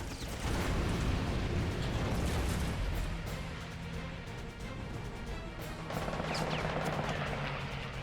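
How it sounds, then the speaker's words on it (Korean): A burning Zero fighter plane explodes during a night air battle, a dense, rumbling roar of blasts and crackling that stays loud and heavy throughout, with a brief dip midway before surging again. "이번 폭발로 던건의 위치가 노출되었다."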